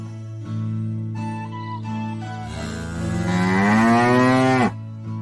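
Cow mooing with long, loud, drawn-out calls that rise and swell, then stop abruptly, with no talk.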